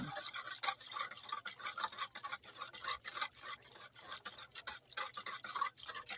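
Strained kutsinta batter, tinted with annatto, is stirred in a bowl with quick repeated scraping and swishing strokes, close and fairly quiet, with no talking.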